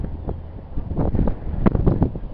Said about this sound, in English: Gotta be blowing 30 miles an hour in here.